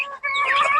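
Chickens cluck at a poultry yard as grain is tossed to them, a close, steady chorus of overlapping calls with a brief dip near the start.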